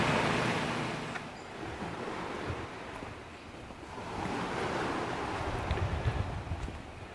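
Gentle surf washes onto a small, calm, reef-sheltered beach at the Paradisus Río de Oro resort, a continuous rushing swell with soft wind buffeting the microphone, no voices.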